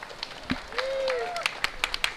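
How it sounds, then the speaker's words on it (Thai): Wedding guests applaud at a reception, scattered claps rising and falling while voices and chatter carry on underneath. "ครับผมเสียงปรบมือได้นะครับ"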